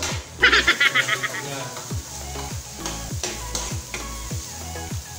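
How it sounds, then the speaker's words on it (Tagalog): A large amount of onions fries in a pan for chicken pastil, a steady close sizzle punctuated by a rhythmic series of soft thumps and scrapes from stirring, with a voice talking at times. "So ilagay na natin ang maraming sibuyas."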